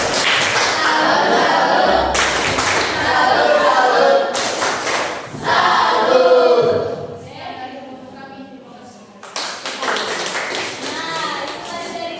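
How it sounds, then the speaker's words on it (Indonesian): Applause for a student group in a classroom: bursts of broadband clapping from a room of people, swelling and fading over several seconds, with voices mixed in. "Kita beri tepuk tangan dulu untuk teman kelompok auditori"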